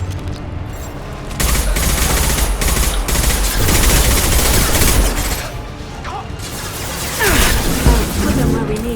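Sustained bursts of automatic gunfire and heavy weapon fire from Mass Effect 2 combat at a conveyor line, loud and dense with booms and mechanical clatter, while voices speak over the shooting.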